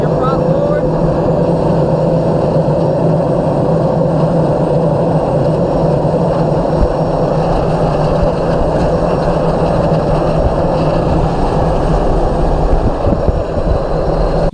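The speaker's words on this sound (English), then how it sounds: "You can hear the wind noise around the camera and all that goes with it." A turbine-powered P-51 Mustang with its propeller spinning up, a loud, steady whining drone mixed with heavy wind buffeting past the camera, continuous and close.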